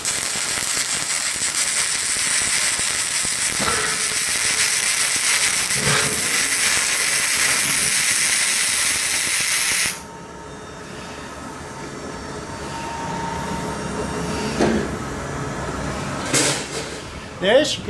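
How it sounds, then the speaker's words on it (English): A Weldtech WT140FC flux-cored welder runs a bead on steel plate: a loud, steady crackling hiss for about ten seconds that cuts off abruptly, leaving quieter background noise with a few faint clicks. "When you have a welding torch, you're holding it there, you're holding it about 10 mil away from the plate"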